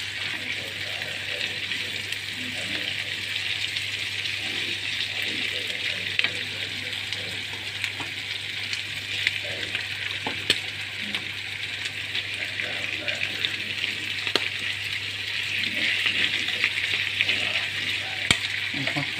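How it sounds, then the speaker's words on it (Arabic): Meat fries in a pan with a steady loud sizzle and is stirred now and then, the hiss staying constant throughout with faint talk underneath. "ونقلب، نفضل نقلب بقى لغاية ما تاخد لون معانا تتحمر كده"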